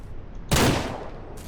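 A gunshot fired while hunting in the video game Ranch Simulator: one sharp, loud blast whose echo dies away over about a second, with a quieter second report at the end.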